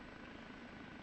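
Steady, loud rotor and turbine drone of an OH-58D Kiowa helicopter hovering low in the DCS flight simulator game, a continuous broadband roar with no talk.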